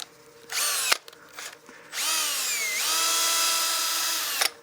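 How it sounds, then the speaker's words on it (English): A power drill spinning sandpaper to sand the contours of a wooden pen blank on a lathe: a short whine, a brief stop, then a longer high-pitched whirring run that rises and settles before cutting off, with no talking. "When you're sanding contours like this, I find it a little bit easier to do and maintain my shape with a drill than just the sandpaper."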